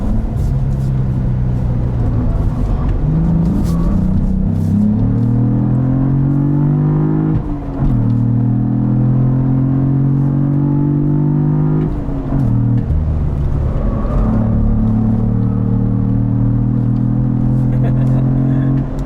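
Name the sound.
Cadillac CT4-V Blackwing car driving fast and sliding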